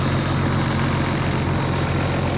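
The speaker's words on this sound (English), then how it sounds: "Loud ass bus." A loud bus engine rumbles close by, a dense, steady roar of heavy diesel noise holding at constant volume with no voices over it.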